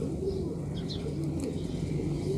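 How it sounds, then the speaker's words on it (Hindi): A male pigeon coos in low, throaty, rolling tones close by, repeating softly over a steady background hum. "तो ये नर कबूतर है"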